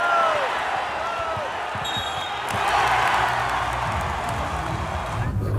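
A wrestling crowd in a gym cheers and shouts loudly in a steady roar that swells and holds, with scattered whoops and thuds underneath.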